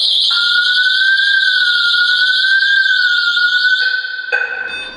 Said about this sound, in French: donc l'alarme se déclenche